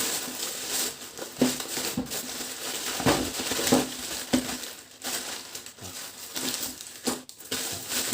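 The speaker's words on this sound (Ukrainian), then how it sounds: "Тож, приступимо до розпакування" Parcel from AliExpress being unpacked by hand, with close, irregular crinkling, rustling and crushing of packaging plus a few light knocks, continuing steadily with no talk.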